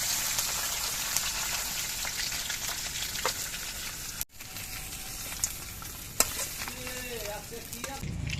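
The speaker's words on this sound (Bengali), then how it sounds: "এবার মাছের মাথাগুলো আমি নেড়ে চেড়ে ডালের সঙ্গে মিশিয়ে দিচ্ছি" Fried fish heads are stirred into mung dal in a pan, producing a steady, close sizzle with occasional scraping clicks from the stirring.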